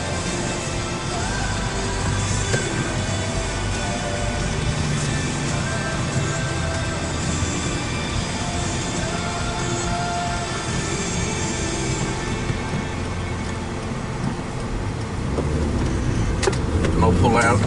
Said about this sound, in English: Lots of cars, so I've got to wait.